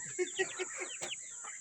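A native chicken clucks in short rhythmic bursts close by, with a steady high-pitched hum in the background.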